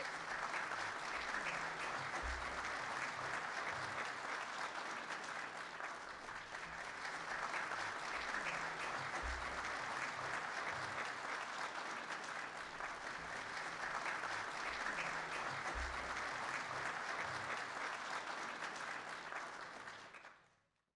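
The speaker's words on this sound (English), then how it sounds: "A round of applause for class 2202 graduates." Sustained, loud applause from a large audience at a police academy graduation ceremony, a dense continuous roar of clapping lasting about twenty seconds before fading out abruptly.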